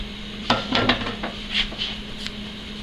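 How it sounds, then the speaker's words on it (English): Peppers hit hot cooking oil in a pan with a steady faint sizzle, punctuated by several clinks and scrapes of a utensil against the cookware. "A little bit of cooking oil there. And now I'm going to add my peppers."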